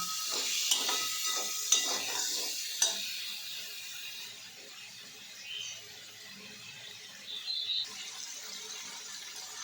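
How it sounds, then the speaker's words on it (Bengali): Shrimp and potato cooking with turmeric, cumin powder, salt and chilli in a pan, stirred with a few sharp scrapes early on, then a soft, faint sizzle continuing quietly to the end. "এবার কষা, নুনটা কমিয়ে দিই, কষিয়ে নিই।"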